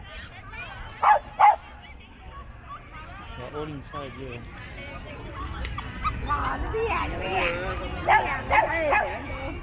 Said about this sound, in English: Oh, look at that. So many dogs there. Wow, so many dogs.